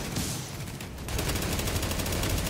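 Continuous rapid blind-fire gunfire rattles nonstop in The Division video game, a dense, loud burst of automatic shots that briefly thins before resuming at full intensity.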